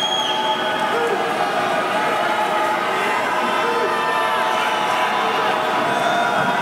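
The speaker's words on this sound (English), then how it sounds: "Listen to that crowd at the farm." Crowd at a Legends Football League game at the stadium, Baltimore Charm against Omaha Heart, a dense continuous roar of cheering at a distance, with a voice talking throughout.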